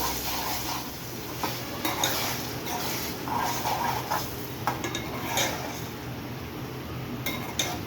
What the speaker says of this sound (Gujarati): આ કેપ્સિકમને આપણે સારી રીતે પાકવા દેવાના હવે આપણે આ ટમેટાની ગ્રેવી પણ એડ કરી દેવાની